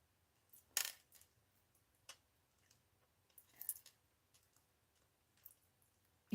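Small scissors snipping beading wire at a craft table, giving a few sharp, faint metallic clicks and snaps spread irregularly over several quiet seconds.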